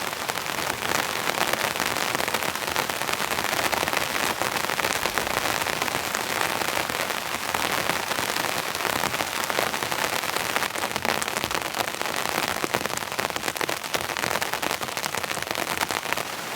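Heavy rain pounds a tent tarp during a night of camping, producing a dense, unbroken hiss and patter that holds at a constant loud level throughout, with no talking.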